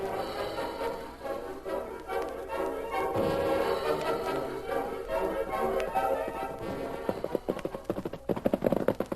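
Horse hooves clip-clop in a western radio drama as a sheriff and parson ride up, a steady run of taps building in density and growing louder toward the end over a continuous music bed.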